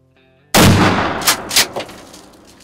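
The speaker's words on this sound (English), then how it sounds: "when it comes to shooting a slug gun" A slug-loaded shotgun fires a single loud, close blast while deer hunting, the report rolling off into a decaying echo that lasts a couple of seconds, with a faint low background hum before the shot.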